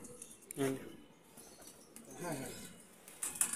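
Teddy golden pigeons from a breeder's loft coo softly in a few short, low bursts, with people talking nearby and a brief rustle of wings near the end.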